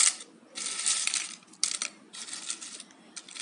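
Dried potato chips rattle in dry, crisp bursts over several shakes, brittle pieces tumbling together in a container, close and moderately loud with short pauses between.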